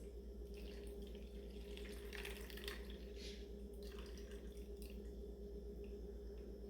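Raisin soaking water for a sourdough starter is strained, giving a steady low trickle and splash of liquid running through a strainer with small drips, continuous and fairly quiet.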